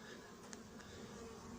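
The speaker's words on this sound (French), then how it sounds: "beaucoup d'abeilles qui tapent dans le voile" Honeybees at a beehive buzz against an anti-hornet tent veil, forming a dense, continuous droning hum close by, with a few brief louder bumps as individual bees strike the mesh.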